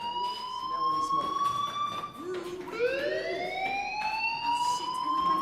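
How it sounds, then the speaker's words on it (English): A fire alarm rings in the video game Life is Strange as a loud, continuous electronic siren whose tones hold steady, dip, then sweep upward again. "Hey, do you hear that fire alarm?"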